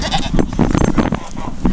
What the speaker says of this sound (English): we just got a goat stuck in the fence